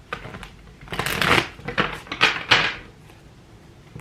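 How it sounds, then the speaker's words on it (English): Light Seers Tarot cards are shuffled in a few quick riffling bursts, close and crisp, with brief pauses between them and a quiet tail at the end. "I'm going to do a couple of quick shuffles and we'll see what wants to come out."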